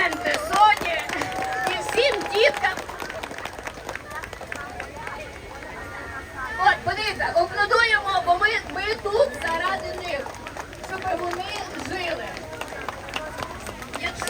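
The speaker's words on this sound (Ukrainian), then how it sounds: "І так, аплодисменти." Crowd applause and cheering at a charity women's bike ride on Svobody Avenue in Lviv, a dense steady clatter of many hands with children's voices and an announcer talking over it throughout.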